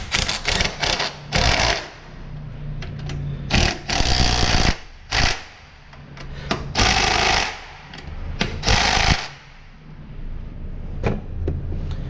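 An impact gun drives a bolt on an engine mount of a 2010 Kia Forte, firing in repeated loud, rattling bursts of varying length separated by short pauses.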